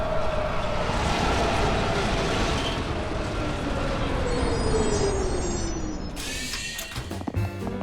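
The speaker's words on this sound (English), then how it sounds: "Oh, good, the train's here." A cartoon subway train rumbles in, its roar and screeching brakes sliding downward as it slows, ending with hisses and clanks.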